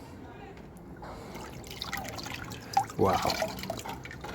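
Sea water drips and trickles off an interlocking brick as it is lifted from a container, with a louder splash near the end while a person speaks.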